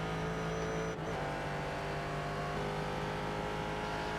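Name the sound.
V8 race car engine in the iRacing video game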